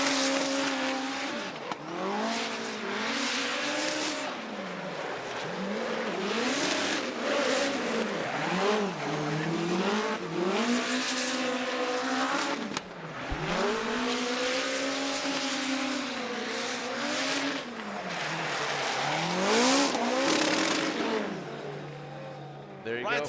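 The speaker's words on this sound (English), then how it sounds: "Let's just listen to this 4-cylinder turbo nitrous powered hot hatchback of Ryan Tuerck." Ryan Tuerck's 4-cylinder turbocharged, nitrous-fed Toyota Corolla hatchback drifting in a championship run, the engine revving up and down in repeated surges with tire squeal, loud and sustained, a commentator's voice mixed in.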